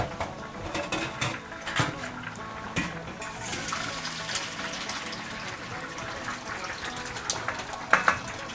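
Boiled cabbage and carrots for El Salvadoran-style coleslaw are poured from a pot into a strainer: a continuous close gush and splash of water that swells near the end, with no talking.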